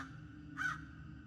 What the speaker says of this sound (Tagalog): Sinundan yon ng pamilyar na huni ng uwak.